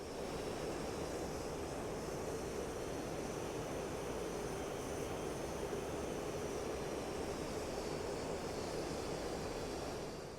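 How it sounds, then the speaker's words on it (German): A Mirage F1CE fighter in flight in the DCS combat simulator gives a steady, unbroken jet engine roar mixed with rushing airflow, constant in level throughout with no voices. "Das Triebwerk im Hintergrund ist dabei recht gut gedämpft, aber auch nicht zu stark gedämpft."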